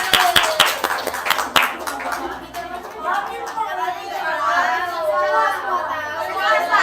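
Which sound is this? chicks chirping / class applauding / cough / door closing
class applauding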